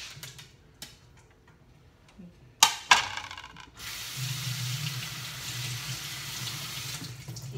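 A kitchen sink tap runs to rinse pre-cooked food, preceded by a few light clicks and clatters, then a sharp knock before the water starts and flows steadily for the last few seconds, close and moderately loud.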